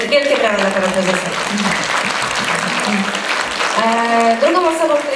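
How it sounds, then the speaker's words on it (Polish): An audience applauds warmly at a festival for people with disabilities, with steady, full clapping throughout while a voice speaks over it at the start and again near the end. "Wielkie brawa dla pana prezesa."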